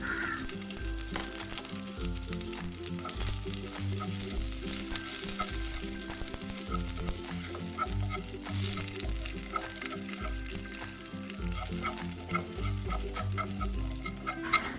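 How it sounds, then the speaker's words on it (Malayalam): Cashews and raisins fry in a pan of hot oil for a Kerala banana snack, giving a steady, close sizzle with stirring scrapes throughout, under a faint tonal background. "ആദ്യം കുറച്ച് അണ്ടി മുന്തിരി വഴറ്റിയെടുക്കാം"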